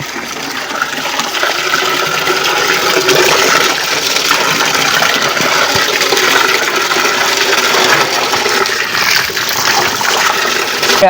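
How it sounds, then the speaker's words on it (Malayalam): Steady gushing water from a tap runs continuously throughout, a strong broadband rush with no pauses, close by. "വെള്ളം പാകത്തിന് വരുന്നുണ്ട്"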